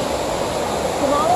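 Tumalo Falls, a waterfall in Oregon's Deschutes National Forest, pours in a steady broadband roar heard close up, swelling slightly toward the end with a faint tonal whistle.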